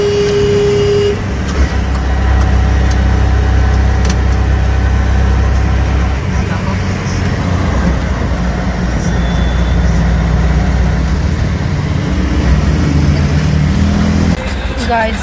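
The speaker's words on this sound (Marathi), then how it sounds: "पूर्ण ट्रॅफिक." Cars and buses sit in a dense traffic jam on a city road, with constant engine drone and idling close by and occasional horn toots throughout.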